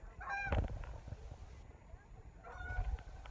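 Canada geese honk in a few short, fairly faint calls, with a brief burst near the start and another near the end over quiet outdoor background noise.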